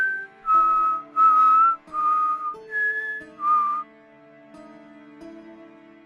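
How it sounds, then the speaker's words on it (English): A person whistles a slow melodic tune in clear sustained notes, six or so phrases rising and falling over a soft sustained musical backdrop, close and alone without talk. "she begins to whistle"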